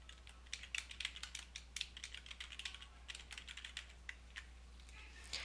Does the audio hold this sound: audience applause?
no